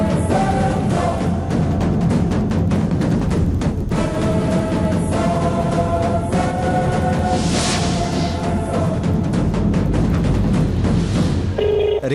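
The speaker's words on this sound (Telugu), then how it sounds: "రింగ్ అవుతుంది" A telephone rings loudly and steadily, a repeating electronic ring tone with a busy background bed of music or noise running throughout, no talk over it.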